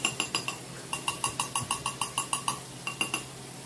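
Lime juice is stirred into a broccoli corn salad in a bowl, making a quick rhythmic series of light clinking scrapes from a utensil, with a short pause before a few more strokes.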